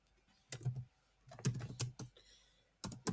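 Close, quiet keystrokes on a computer keyboard while entering an accounting transaction, sounding in a few short clusters of clicks separated by pauses.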